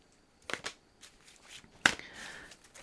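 A deck of tarot cards is shuffled by hand in a quiet room, giving a few short, crisp riffling bursts and soft slaps separated by brief pauses.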